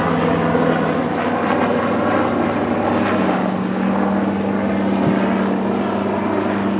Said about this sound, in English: You can hear the helicopter.